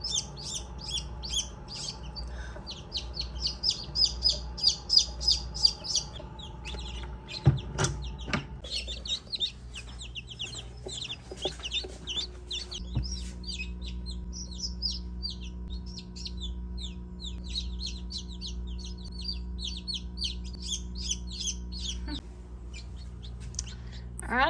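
Newly hatched baby chicks chirp in a quick, high, repeated flurry of peeps, close by and fairly loud, with brief pauses and a few soft clunks and rustles around them.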